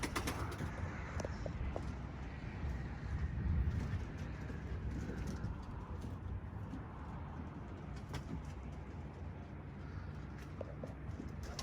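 Racing pigeons coo softly at a loft on a cool day when rain threatens, a steady low murmur of several birds with faint rustling and occasional knocks underneath.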